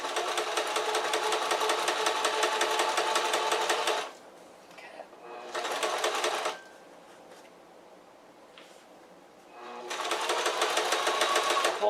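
A sewing machine stitching walking shorts, its rapid mechanical whir running in steady bursts with short pauses between, close and loud; a voice talks faintly during the quiet gaps.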